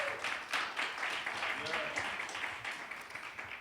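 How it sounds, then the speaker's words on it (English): An audience at a lecture claps in a steady burst of applause, crisp and continuous, with a voice faintly audible beneath it. "Another round of applause, please."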